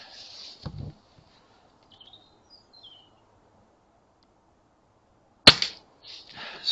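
A single sharp crack of a BSA R10 air rifle firing a .22 pellet during scope zeroing, loud and close, followed by brief handling noise in a quiet outdoor setting.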